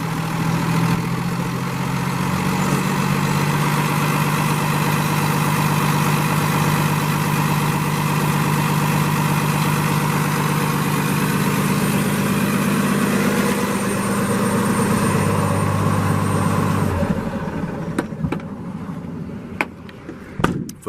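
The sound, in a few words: 2017 Freightliner M2 truck, Cummins ISL diesel engine idling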